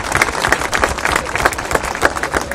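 Applause for the bridge cart at the Ponte centenary festival, a May 2013 celebration in Italy, as a crowd claps in a dense, steady patter of many hands close by, rising and falling throughout.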